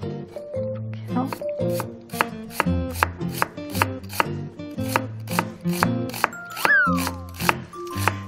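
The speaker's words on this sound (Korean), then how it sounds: "양파도 다져주시면 되는데 요거는 그냥 한 3등분 해서 그냥 채 썰어 주시면 괜찮습니다" A knife chops onion on a cutting board with quick, even knocks, each followed by a short blade rasp. The chopping is close and carries on steadily for several seconds with no talking.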